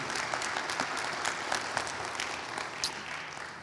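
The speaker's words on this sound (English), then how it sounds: "Let's give them a round of applause" Crowd applause at the Clayton County 2021 State of the County Address: many hands clapping in a fairly soft, even roar heard from a distance, with a few sharper claps popping out.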